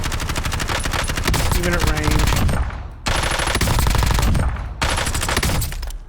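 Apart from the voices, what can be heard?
Kilo gun firing in video game Warzone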